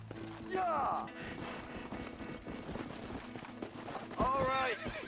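Hooves clatter and a horse lets out two sharp whinnies, one early and one near the end, in the Western game Red Dead Redemption, over a busy background of game sound.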